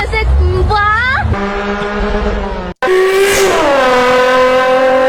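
A Honda NSX engine revs hard in loud, high-pitched rising and falling whines, followed by a long sustained rev after a brief cut.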